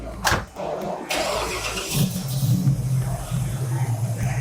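A muscle car engine at a collector car auction cranks and catches before a burnout, then settles into a steady, throaty rumble close by.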